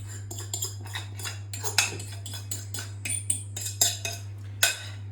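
Egg being mixed into a potato mixture in a bowl, with a series of sharp, close clinks and scrapes of a utensil against the bowl in an uneven rhythm.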